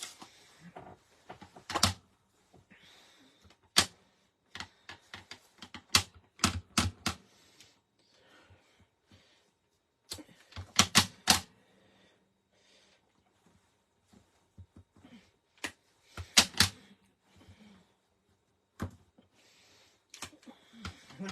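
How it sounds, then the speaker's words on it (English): A rubber stamp inked with red ink strikes scrap paper again and again, making sharp, close taps that come in irregular clusters with short pauses between them. "I'm going to randomly stamp all over"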